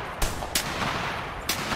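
In The Hunter Classic, a duck-hunting game, gunshots crack three times in quick uneven succession over a dense, steady wash of game ambience, loud and close.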